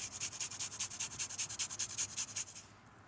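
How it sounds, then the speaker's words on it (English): A small garlic clove being finely minced with a knife: a quick, even run of about fifteen soft, rasping strokes lasting under three seconds, quiet and close, then stopping. "1 clove of garlic that I'll finely mince"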